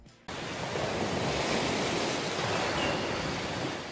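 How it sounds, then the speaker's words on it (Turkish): Sea waves wash in a steady, full roar that starts abruptly after a brief silence and continues unbroken, loud and close, with no voices. "Ada size dalgaların sesini getirir."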